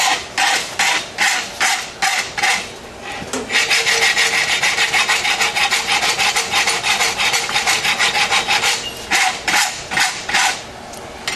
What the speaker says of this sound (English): I'm gonna rasp this one up. On both sides of the boss